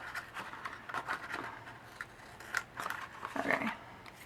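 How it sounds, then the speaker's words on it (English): Scattered scraping and clicking sounds of metal scissor blades being rubbed and wiped clean of sticky glue, with soft irregular handling noises close by. "So I gotta clean off my scissors."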